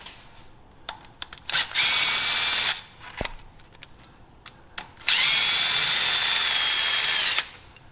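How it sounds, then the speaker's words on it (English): A 3/8 inch impact wrench loosens starter bolts on a Chevrolet Silverado / GMC Sierra 4.3 V6 during oil pan work, two loud sustained bursts of whirring hammering separated by small clicks and handling noises. "I'll grab my 3/8 impact."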